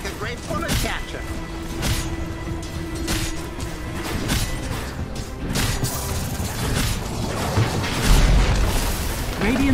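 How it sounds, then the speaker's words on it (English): Barracks crumble during a Dota 2 match, with booming crashes and rumbling impacts layered over dense game effects, while a voice talks over the action. "Radiant's top barracks has fallen."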